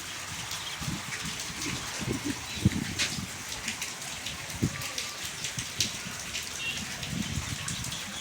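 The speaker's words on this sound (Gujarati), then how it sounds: "વરસાદ ચાલુ થઈ ગયો હતો. હજે ચાલુ જ છે." Steady rain falls over a farm in the dark as a dense, even patter with scattered sharper drops, while a voice speaks faintly underneath.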